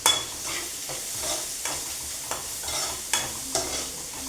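Chickpea curry ingredients being stirred and sautéed in a pan, with a steady sizzle and repeated scraping strokes of a spoon every half second or so, close and moderately loud, no talking.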